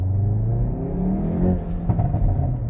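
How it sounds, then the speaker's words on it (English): A 2022 Hyundai i30 N hot hatch engine rumbles low and steady nearby, its exhaust burbling and crackling with a few small pops, no voices. "Oh, that exhaust is already burbling."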